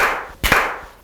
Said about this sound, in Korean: 선생님 박수 한번 쳐주세요